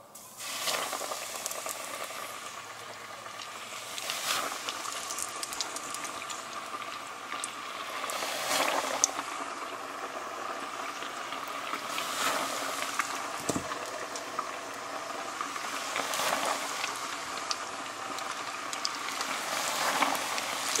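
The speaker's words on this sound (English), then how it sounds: "We got the sizzle." Crappie fillets frying in a pan, a steady close crackling sizzle with popping bursts that swell and fade every few seconds, like heavy rain on a surface, with no voices.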